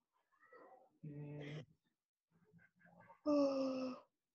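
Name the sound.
yawn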